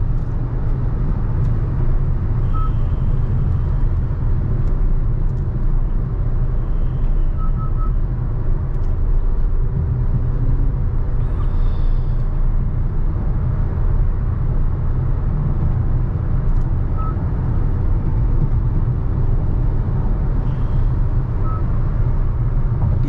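A Honda Elevate with a manual gearbox cruises on the highway at 100 km/h around 2650 RPM, giving a constant low road and engine drone inside the cabin with faint tyre hum and no talking.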